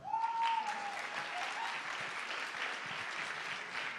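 Audience at a CEGEP student talent show applauding, with a sustained wash of clapping from a crowd that stays fairly even throughout, plus a brief whistle at the start.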